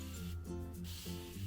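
A spray bottle mists water onto hair twists in soft, brief hissing puffs, quiet and close with no voices.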